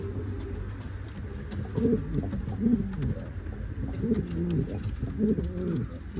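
Pigeons coo in a coop, several low, rolling calls repeating close by over a steady background rumble, with no one talking.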